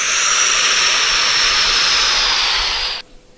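Close and loud, an airplane engine in a war-themed video game roars with a steady, hissing drone that cuts off abruptly near the end, with no talking.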